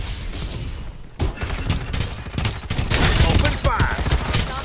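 Rapid bursts of gunfire in the video game Farlight 84, dense crackling volleys and thumps throughout, with game voice callouts mixed in.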